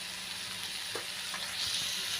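Tomatoes fry in a pan with a steady close sizzle and a few faint stirring touches, a short even stretch with no speech.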